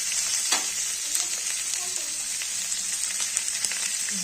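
Potatoes and beans with onion, chilli, salt and turmeric fry in a pan, giving a steady close sizzle with light stirring taps and no voices.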